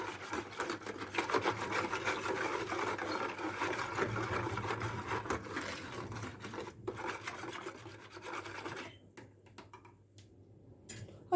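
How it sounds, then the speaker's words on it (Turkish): Yeast, sugar and liquid being whisked in a bowl for yeasted simit dough, a steady close scraping rasp of the whisk against the bowl that keeps going for about nine seconds before tapering off into quieter, more broken strokes. "Şöyle bir çırpalım güzelce. Bir karıştıralım."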